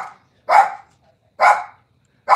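Three loud, close dog barks ring out about once a second with silence between them, as pet dogs bark at the door indoors.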